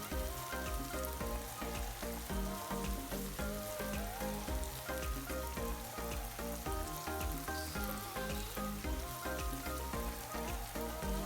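Cheese-coated tofu fries in hot oil in a wok, giving a loud, continuous, dense sizzle that stays even throughout and carries no talk.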